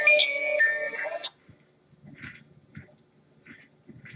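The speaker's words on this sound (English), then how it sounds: "Looks like I didn't silence my phone." A mobile phone ringtone plays a bright melodic tone for just over a second and then cuts off abruptly, leaving only faint scattered background sounds.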